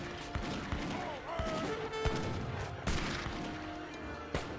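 Musket volleys crack out in an Age of Empires 3 4v4 battle, a spread of sharp gunfire bursts recurring through a busy game mix with faint talk underneath.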